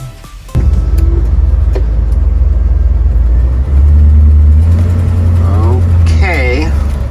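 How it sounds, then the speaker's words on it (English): An RV engine runs steadily in a snowy winter camp on Canadian crown land, a loud low rumble that jumps up after a start, with someone speaking over it throughout. "I just heard Patrick start up his engine"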